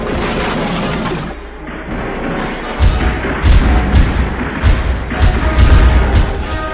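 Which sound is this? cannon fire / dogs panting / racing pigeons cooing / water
cannon fire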